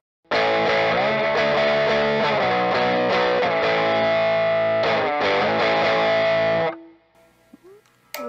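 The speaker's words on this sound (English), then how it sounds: "Let's go to the middle position, hit them both with some power chords." Distorted power chords on a Guild Polara Kim Thayil electric guitar with the middle pickup position selected ring out loud and close, several sustained strummed chords with brief choppy breaks, then cut off to a faint fading hum and small string noises.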